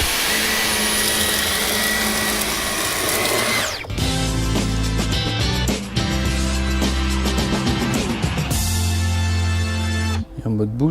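A Dyson V11 cordless vacuum with its carpet brush cleans carpeted stairs, a loud steady whine and roar that shifts in pitch as the brush moves across the steps, with a voice talking over it.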